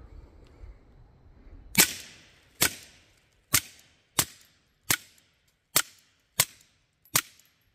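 Eight sharp, evenly spaced shots from a Beretta 3032 Tomcat .32 ACP pocket pistol fitted with an Omega 9k suppressor ring out close and loud, each a crisp crack with a short decay.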